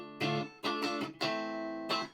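Electric guitar through a Roadster amp with an HSS guitar on the position 4 pickup setting, four strummed chords ringing with a bright, full tone, each cut off cleanly before the next, played alone.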